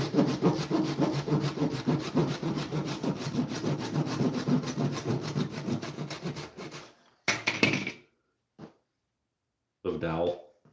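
A hand saw cuts through a wooden dowel, a steady rhythmic rasp of quick back-and-forth strokes lasting about seven seconds, then a few short scraping strokes separated by pauses.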